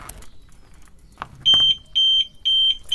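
An Audi A3 TDI's tilt-sensing security alarm, set off while the car is jacked up for rear brake work, sounds a series of sharp, high electronic beeps in regular on-off bursts, close and loud after a few faint knocks.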